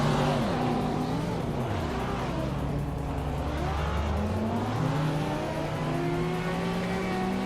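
Several race cars accelerate hard, a BMW M6 among them, with engine tones sweeping up and down through gear changes and a tyre squeal, loud and continuous with no talk.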